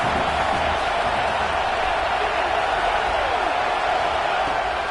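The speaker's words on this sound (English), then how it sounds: "These fans are going absolutely nuts." A video-game stadium crowd in College Football 26, at a Syracuse versus Oklahoma game, roars in a dense, continuous wall of noise that holds steady for the whole stretch. A faint commentary voice sits underneath.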